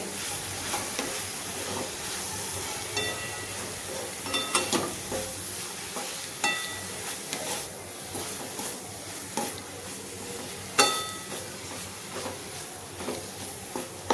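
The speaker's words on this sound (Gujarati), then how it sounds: "પાવના ટુકડાને આવી રીતે મિક્સ કરી લેવાના છે" Bread (pav) pieces being stirred in a pan over a low gas flame, with a soft steady sizzle beneath repeated scraping and clinking strokes of the spoon, close and moderately loud, no talking.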